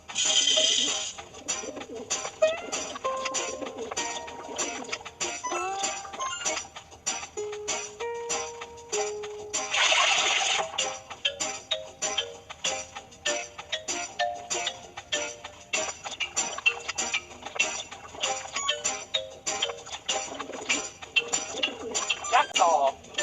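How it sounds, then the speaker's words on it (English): Carrier pigeons on a farm in a kids' cartoon game coo repeatedly over busy game music and chiming effects, the soft calls recurring throughout alongside bright jingles. "There are carrier pigeons on our farm."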